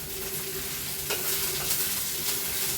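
Mutton sizzles and fries in a kadai, a steady, close crackle with occasional stirring scrapes and no talking.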